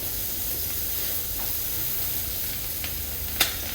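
Two sausages frying in a pan for an English breakfast, a steady close sizzle and hiss with a few faint clicks and one sharp tap near the end.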